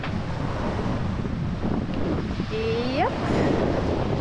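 Steady wind roars across the microphone while sailing at 13 knots toward Hyères, a reefed mainsail and partly furled genoa, with surf and water rushing below; a short spoken word comes near the end.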